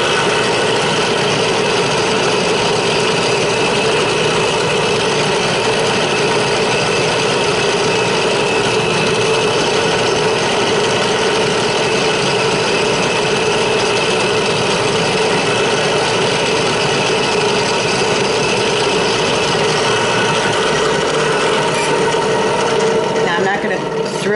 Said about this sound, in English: So once our drill is set, we're going to start drilling out the small holes.